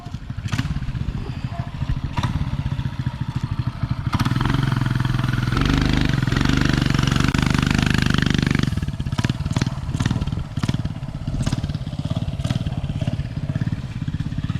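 A vehicle engine revs high as it pushes up a hill. Rough, clattering idle and short blips lead into a sustained loud roar in the middle, then the revs fall back to choppy bursts.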